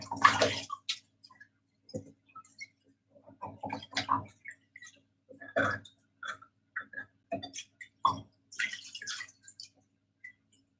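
Water dripping and splashing while pigment filtering equipment is rinsed out, heard as scattered intermittent drips and small splashes with quiet pauses between them.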